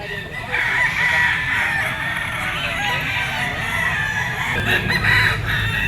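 A nine-month-old Kelso gamecock stag crows loudly and close by in a yard, with a drawn-out call near the start and another toward the end, among clucking and background fowl noise.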